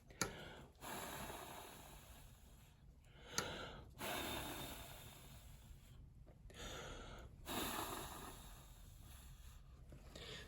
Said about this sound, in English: Watch what happens when I blow my breath onto the star and dry it out.